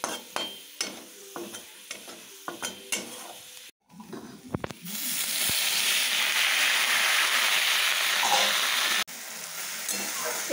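Pumpkin greens with garlic and dried chili frying in a pan: a run of scraping stirs and taps gives way to a loud, steady sizzle that holds to the end, briefly broken once near the close.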